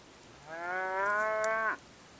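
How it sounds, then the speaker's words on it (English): Cow or bull in the Peak District hills near Mam Tor: one long, loud, drawn-out moo that swells and then cuts off sharply, heard alone outdoors. "Not sure if that's a cow or a bull,"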